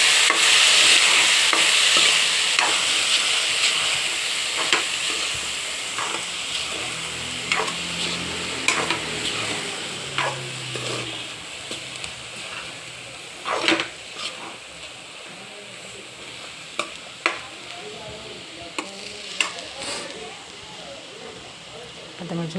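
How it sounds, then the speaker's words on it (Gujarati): Cumin rice being gently stirred in a pan over a low gas flame, with a soft ongoing sizzle and repeated scraping strokes throughout, fairly close and steady. "પછી તેમાં ભાત એડ કરી દેવાના છે જે આપણે ગેસ ધીમો કરીને ધીમા હાથે હલાવવાનું છે."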